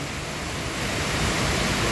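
A waterfall in a natural mountain setting pours in a steady, loud broadband roar that fills the short stretch without pause.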